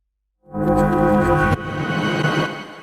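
A reversed sound effect that rises abruptly into a dense, droning tone and shifts to a rougher texture halfway through, then cuts off. Loud and isolated.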